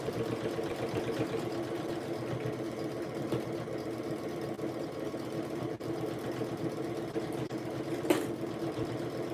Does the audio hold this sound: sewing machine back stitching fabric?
yes